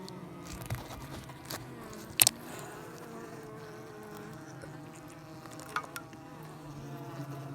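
Faint, steady buzzing of bees at a log bee trap throughout, with a few brief sharper clicks and bumps close by.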